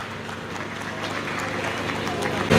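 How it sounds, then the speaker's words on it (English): A crowd claps steadily at the Banjul Cultural Festival 2025, greeting a speaker named Mr. Keita; dense, continuous applause builds slightly toward the end. "A round of applause for Mr. Keita."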